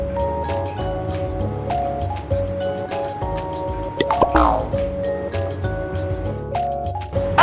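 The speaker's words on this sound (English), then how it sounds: "Now let's mix all of this up." Wet waffle batter ingredients, including vanilla paste, are stirred together in a bowl, giving soft wet squishes and drips over a light clink and rustle, close and fairly quiet.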